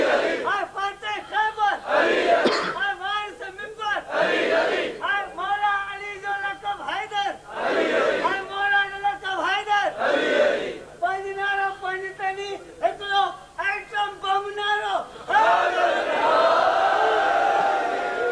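A crowd at a religious gathering in Larkana chants slogans in loud, rhythmic bursts, voices rising together in repeated call-like phrases with short gaps between them, close and full throughout.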